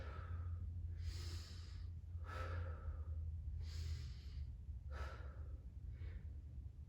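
Slow yoga breaths held in a low lunge during a vinyasa practice, five or six airy inhales and exhales rising and falling at a steady, unhurried pace over a constant low background hum, no talking.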